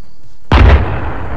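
A single booming artillery shot in a video game, one sharp loud blast followed by a rumbling decay.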